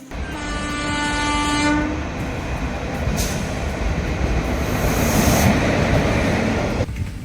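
A train horn blares for a couple of seconds at a railway station, then the heavy rumble and clatter of a train fills the air steadily until the end.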